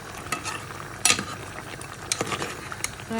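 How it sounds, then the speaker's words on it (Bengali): Dried fish (shutki) being stirred in a pan in a home kitchen, with scattered scraping and clinking of a utensil against the metal and a faint sizzle underneath, no talk. "এই তো আমার শুটকি এটা একটু নাড়াচাড়া করে নিচ্ছি"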